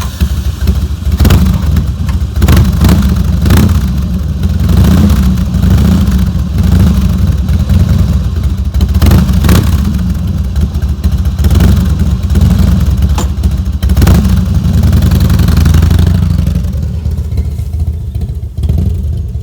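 Motor vehicle engine running after its carburetor was cleaned, a loud, close, rough idle with repeated blips of revving throughout, settling slightly toward the end.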